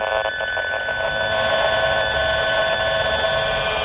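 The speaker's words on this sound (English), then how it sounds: "this is what microwave radio frequency radiation sounds like coming from a cell phone antenna" A steady, harsh electronic buzz with dense high-pitched tones drones on without a break, loud and close, as an RF meter sonifies microwave radiation from a cell phone antenna.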